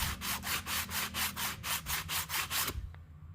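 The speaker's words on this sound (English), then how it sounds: "I'm going to take some fine emery cloth and then run it across" Fine emery cloth rubs back and forth across a Zenith carburetor mating surface from a Wisconsin VH4D engine on a Melroe Bobcat 610, making a close, even scraping rhythm of about a dozen strokes before stopping.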